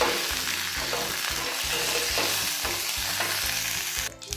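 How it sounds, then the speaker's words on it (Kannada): Curry leaves and two green chillies frying in hot oil with mustard seeds and cumin, a dense, continuous crackling sizzle up close, steady throughout and fading slightly at the end, with no voices. "ಕರಿ ಲೀವ್ಸು, ಗ್ರೀನ್ ಚಿಲ್ಲಿ 2 ಹಾಕ್ಕೊಳ್ತಾ ಇದ್ದೀನಿ. ಇದನ್ನು ಫ್ರೈ ಮಾಡ್ಕೋಬೇಕು."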